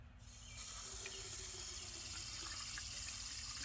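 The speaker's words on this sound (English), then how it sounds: "going to use a little bit of water now to kind of rinse off the syringe" Water runs steadily from a tap or into a sink to rinse a syringe during chipping green construction, a continuous close splashing flow starting after a brief quieter moment.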